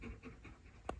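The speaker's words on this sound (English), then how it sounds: "This one's panting, if you hear him." A dog pants in quick, soft, rhythmic breaths close by in a Trader Joe's store, with a brief louder rustle at the end.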